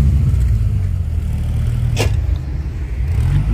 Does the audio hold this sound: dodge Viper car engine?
yes